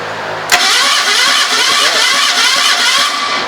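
A 1974 Datsun engine on a homemade motorcycle trike cranks and catches on its first start, then runs loud and steady at a rough idle, close by.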